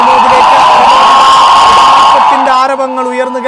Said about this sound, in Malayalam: ആരവങ്ങൾ ഉയർന്നു കേൾക്കാം.